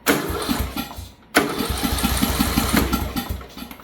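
John Deere engine cranking but refusing to start: a rapid rhythmic chugging from the starter, briefly stopping then cranking again, loud and close with no catch to idle.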